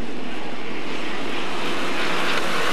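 Racing boat engines at the start of the 1994 Valleyfield Regatta Grand Prix final roar loudly and steadily, swelling in intensity as they open up, with no voices present.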